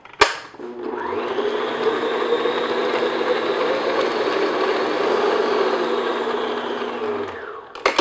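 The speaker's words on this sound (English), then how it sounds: "I'm just going to beat the butter just for, maybe 30 seconds, just until it's nice and smooth" An electric mixer beats unsalted butter until smooth, a steady whirring drone that starts abruptly, holds at an even loud level for about seven seconds, then cuts off with a clatter.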